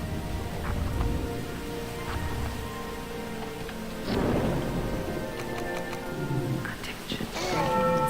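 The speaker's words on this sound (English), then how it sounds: "There's a storm approaching the island." A thunderstorm with rain in Jurassic Park: Operation Genesis: steady rainfall hisses beneath the game's tonal background sounds, with a couple of rumbling thunder swells building around the middle and toward the end.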